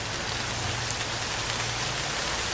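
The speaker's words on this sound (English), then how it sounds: "And it's raining." Steady rain pours down outdoors, a dense, even hiss of drops striking surfaces that holds constant and fairly loud throughout, with no voices.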